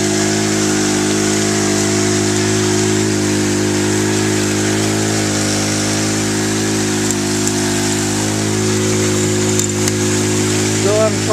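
A gold dredge engine on a highbanker setup runs steadily and loud throughout, a constant droning hum with a broad wash of water noise over it.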